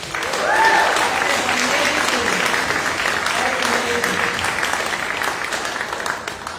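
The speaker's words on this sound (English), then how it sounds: "Can we clap it up for that, please?" Audience applause fills the room at a book awards gala, a thick steady wash of clapping that swells early and then holds, with a voice faintly audible beneath it.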